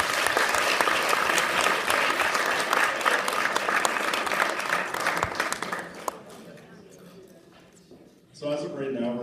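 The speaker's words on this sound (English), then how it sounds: "so let's give her another round of applause." A student association presidential debate audience gives a loud, dense round of applause for about six seconds, which fades to quiet before a voice starts talking.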